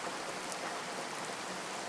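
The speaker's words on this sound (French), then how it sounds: "Ça c'est la pluie de la miséricorde, laisse-la te purifier." Steady rain pours down outdoors in a broad, even hiss with no gaps, loud and close throughout, with no voices.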